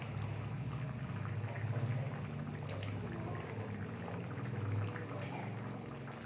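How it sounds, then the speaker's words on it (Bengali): Bengali-style rohu fish curry with raw mango boiling on a high flame while fried mango pieces go in, a continuous soft bubbling and pouring sound with some faint splashes. "এরপর হাই ফ্লেমে আমি 5 মিনিট ঝোলটি ফুটিয়ে নেব।"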